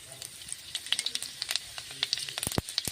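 Spices crackling and spitting in hot oil for tempering a Bengali vegetable dish of pumpkin stems, potato and eggplant, with a steady close sizzle broken by sharp pops and bursts, louder near the end.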